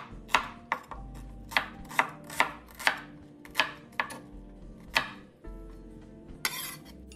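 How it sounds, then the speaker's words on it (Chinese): An onion thinly sliced with a knife on a cutting board, a steady run of sharp close chops with brief pauses between them, no voices. "洋葱250克，取一个切成薄片"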